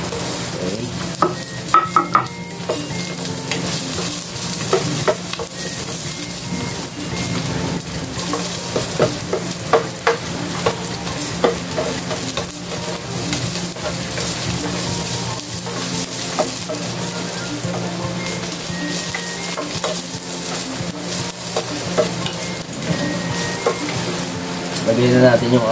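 Onions sizzle and fry in a hot pan while being stirred for adobong puso ng saging, a steady close crackle broken by scraping stirs.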